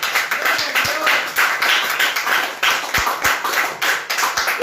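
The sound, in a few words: church congregation clapping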